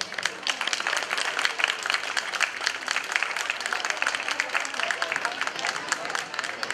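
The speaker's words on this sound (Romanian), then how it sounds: "Îi putem întâmpina cu aplauze." Audience at an interethnic festival in Tulcea applauding an Aromanian dance ensemble and children's group, steady lively clapping from a moderately distant crowd throughout.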